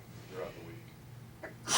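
A single short sneeze bursts out at the end of someone speaking during a golf club meeting, close and sharp after the talk.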